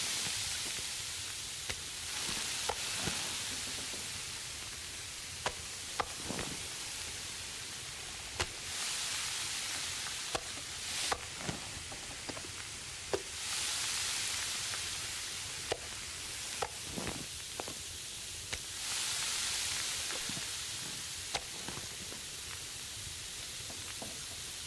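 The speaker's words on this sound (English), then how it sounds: "And we'll just cook until the fire goes out." Food sizzles steadily over a campfire in The Long Dark, a low crackling hiss with scattered sharp pops and snaps, no voices.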